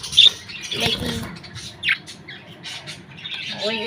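An angry pet bird in a cage squawks near its eggs, sharp harsh calls in short bursts with a few chirps and light pattering between them, close and moderately loud.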